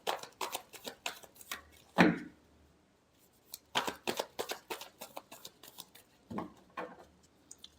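Tarot cards shuffled in a series of crisp, rapid riffles and taps, with pauses between bursts and a louder slap near the middle, close and alone without talk.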